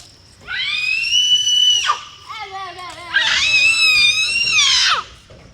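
A young child lets out long, high-pitched screams, one sustained cry, a shorter broken wail, then another drawn-out shriek, loud and close over faint background noise.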